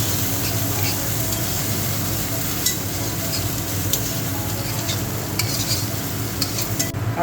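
Ground grain paste sizzles and fries in a pan for a steady stretch, with a continuous hiss and occasional light stirring scrapes and clinks, close and fairly loud with no talk.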